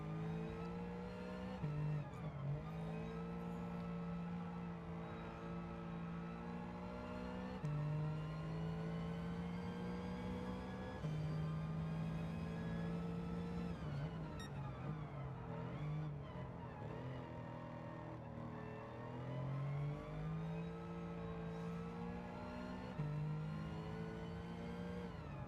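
A race car engine in a racing video game holds a steady high drone, its pitch climbing and dropping repeatedly as the car accelerates and brakes through a course, loud and continuous with no voices.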